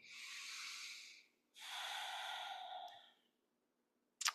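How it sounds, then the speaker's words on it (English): A person in a breathing exercise takes two long, breathy airflow sounds, an inhale and a longer exhale, close and soft, then silence and a brief sharp noise at the end. "And inhale and exhale normally."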